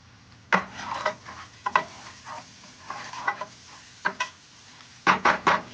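Greek meatballs being stirred in a hot pan, wooden scrapes and clatters in irregular bursts over a steady sizzle, close and fairly loud.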